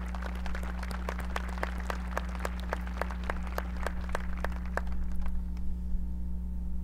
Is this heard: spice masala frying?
no